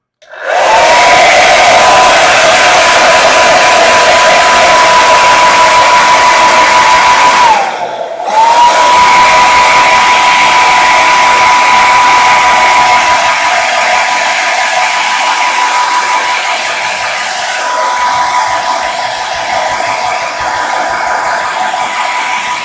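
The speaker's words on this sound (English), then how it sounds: "I am going to cheat for a second and use the hairdryer." A hairdryer blows loudly and steadily for over twenty seconds, used while painting miniatures, with a whining motor tone, a brief cut-off and restart near eight seconds, then continuous airflow.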